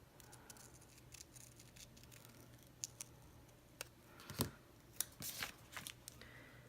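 Scissors cutting sticker paper, a quiet series of close crisp snips and rustles, with a few sharper clicks near the end.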